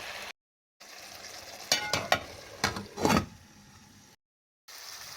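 Fish cooks in a covered frying pan with about two tablespoons of water, giving a soft sizzle broken by several clattering knocks and scrapes in the middle, framed by brief silent gaps.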